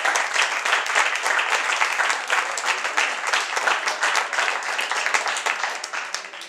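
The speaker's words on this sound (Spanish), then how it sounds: "Alejandro Doña Arena del saxo tenor, un aplauso por favor" Warm, continuous clapping fills a vaulted jazz cellar in Zaragoza as the crowd salutes the Miguel Viejo Sextet's tenor saxophonist, close and even before tapering slightly at the end.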